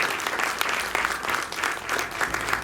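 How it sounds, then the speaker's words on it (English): Steady applause from an audience at the launch ceremony of the ASEAN International Film Festival & Awards (AIFFA) 2023, a dense continuous patter of many hands held at even loudness throughout. "Can we give a huge round of applause,"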